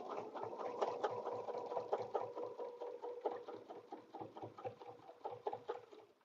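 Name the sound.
sewing machine stitching a quilted table runner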